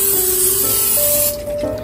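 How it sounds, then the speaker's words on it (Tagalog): Hiss of a cooking spray can misting oil while preparing Korean glass noodle chapsey, a steady close spray lasting under two seconds with no talking. "mag-spray lang tayo."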